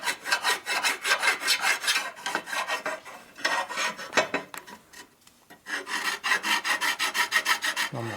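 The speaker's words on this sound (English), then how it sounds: "So once again, this is a pretty coarse file." A coarse metal file rasps across a cracked inner primary cover from a 1997 Harley Dyna FXDG in rhythmic back-and-forth strokes, close and loud, pausing briefly midway.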